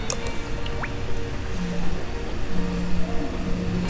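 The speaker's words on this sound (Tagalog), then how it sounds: "Ngayon, i-on ko yung pump para paikutin niya yung tubig sa makina." A newly installed Bosch water pump running as it circulates water through a machine, giving a steady low motor hum with gurgling, dripping water sounds on top.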